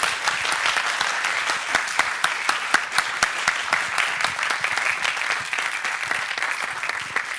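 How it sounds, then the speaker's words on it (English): Dense, continuous applause from a conference audience at a 2011 youth plenary session, sustained and even throughout with sharp individual claps standing out. "Maybe a round of applause for our panelists."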